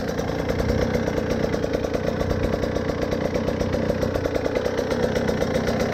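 A Husqvarna TE 150i dirt bike engine fitted with an idle mod idles steadily and close by, a fast even putter with a light mechanical clatter, running on without a break.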